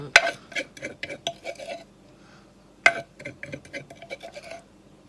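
A pestle pounds chillies and long beans in a mortar for a boiled-egg long bean salad, sharp knocks coming in quick irregular bursts, a pause, then another run of hits.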